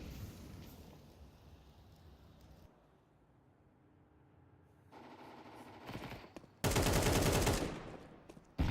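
MP9 submachine gun fire during a competitive Counter-Strike playoff match, with scattered shots early, then a loud sustained automatic burst near the end over game ambience.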